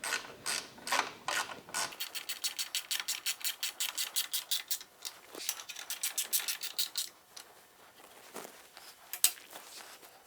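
A 1/2 inch wrench ratchets as fasteners are snugged up, giving quick runs of sharp, close metallic clicks in steady bursts with brief pauses between them.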